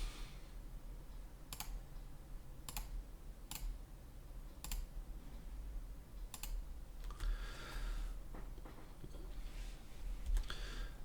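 Computer keyboard keys pressed in a few separate sharp clicks, then a quicker cluster of typing taps, close and fairly quiet over a steady low hum, with no voices, during work on a sci-fi num pad model in Plasticity 25.1.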